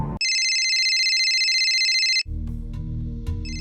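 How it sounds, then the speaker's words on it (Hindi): A telephone rings inside a house, a loud electronic warble held for about two seconds, then cut off by a low rumbling scene before a short burst of ringing returns. "सेक्टर 31 की एक कोठी में फोन की घंटी बजी।"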